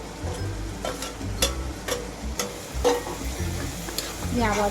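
Spiced brinjal bharta with chopped spring onions is stirred in a hot pan, making a sizzle with repeated stirring clicks and scrapes while a person talks over it.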